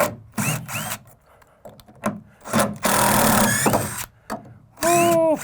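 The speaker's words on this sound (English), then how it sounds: "we're going to drive a screw into the top plate from the rafter" A cordless drill whirs in several short bursts, then a long strained run as a screw drives through a rafter into a shed's top plate, ending with a high-pitched whine.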